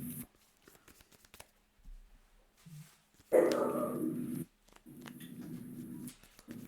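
A dog barks outside a window, two or three short loud bursts that stand out above a quiet room, with faint shuffling and handling sounds in between.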